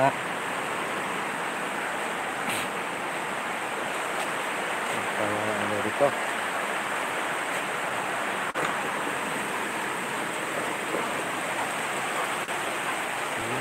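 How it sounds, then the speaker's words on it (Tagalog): Heavy rain falling in a steady, dense hiss that never lets up, with a person talking over the downpour now and then. "Lakas ng ulan dito guys."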